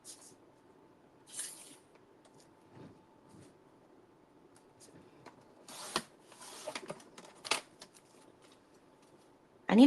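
Scissors snip through paper in a few separate bursts of cutting with quiet pauses between, close up and fairly soft, during a crafting and journaling session.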